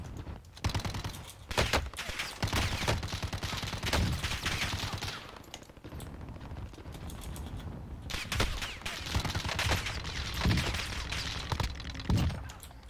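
Gunfire from the video game Call of Duty crackles in bursts of rapid shots and single cracks, separated by short quieter gaps. It plays through the game's sound at moderate loudness, with no talk over it.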